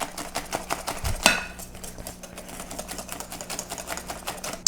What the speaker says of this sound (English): So you really want to take your whisk now and whisk it up.